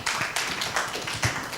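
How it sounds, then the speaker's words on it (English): Applause at an event on modern AI and Indonesia: a modest group clapping in uneven bursts, fairly faint and somewhat distant, with a few sharper claps standing out. "can we please give a round of applause for Mr."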